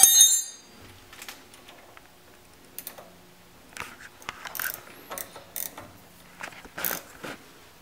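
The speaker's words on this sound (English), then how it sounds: "aren't you glad I gave you the ratchet wrench now?" A ratchet wrench clicks in short, sporadic bursts while brake lines are run on a 1940 car, with scattered close metallic ticks and rattles over a quiet background.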